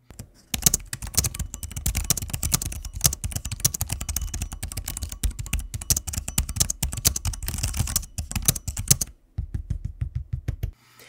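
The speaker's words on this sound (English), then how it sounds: "a quick sample of what it sounds like to type on the keyboard and click through the trackpad" Fast typing on the keyboard of an MSI GT77 Titan gaming laptop, a dense close run of crisp key clacks that stops abruptly near the end, followed by a few isolated clicks.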